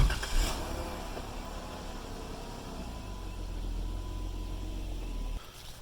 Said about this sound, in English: Let's drive away.